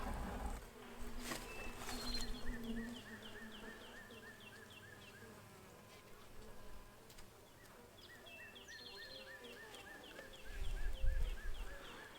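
Honey bees buzz steadily in an open hive being inspected, a dense close insect drone with occasional louder passes near the end and faint chirps in the background.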